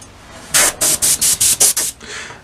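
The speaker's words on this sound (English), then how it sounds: "the best way I've found to get around what we've got here now is to load up the airbrush" High-pressure airbrush spraying during a 1/32 scale model aircraft build, seven short, loud bursts of hiss in quick succession, then a softer trailing puff.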